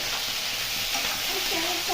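Tomato and slit green chillies sizzle in a frying pan for a vegetarian navratan korma, a loud, continuous close hiss of frying with faint stirring, and a voice may murmur briefly near the end.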